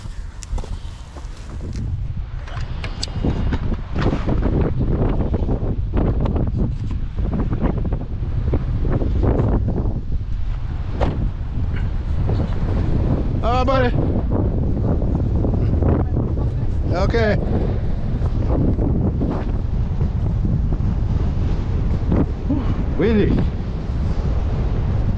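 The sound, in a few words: strong wind on a fishing boat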